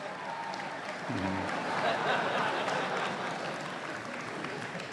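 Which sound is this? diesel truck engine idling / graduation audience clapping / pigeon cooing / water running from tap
graduation audience clapping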